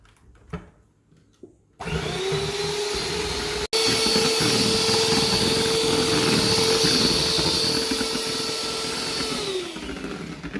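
After a few quiet seconds, an electric mixer beating sponge cake batter starts up with a loud, steady whirring drone that holds for several seconds before easing slightly at the end.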